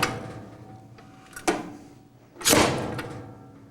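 An old-style spring-cocked skeet thrower dry firing with no magazine attached, giving two sharp mechanical clacks about a second apart, the second louder and ringing briefly, close by with no talk.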